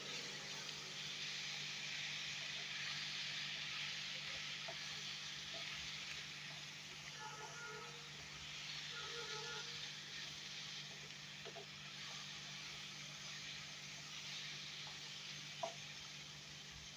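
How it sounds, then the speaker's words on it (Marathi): Spices and potatoes fry in oil in a pan for a dry potato dish, giving a faint, steady sizzle with a few soft stirring scrapes. "इथे पूर्णपणे तेलावर मसाला परतलेला आहे बटाटे परतलेले आहे"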